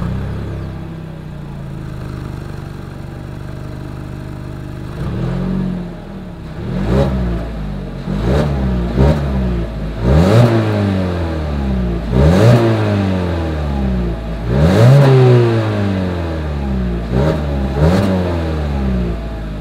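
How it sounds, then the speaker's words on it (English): A 2020 Mazda CX-3 with a four-cylinder engine and dual exhaust idles, then revs in a series of sharp rising and falling bursts, loud and close, with no talking. "As always, here is that exhaust clip."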